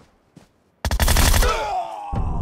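Rapid automatic gunfire in a PUBG Mobile match on the Erangel map: a faint early shot, then a loud close burst of fast shots that rings out and tails off, followed by another shot near the end.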